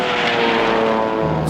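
A propeller airplane engine drones loud and steady close by, a constant buzzing roar with a slight shift in pitch toward the end.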